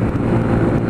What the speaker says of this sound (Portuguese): Tá ventando bastante, cara.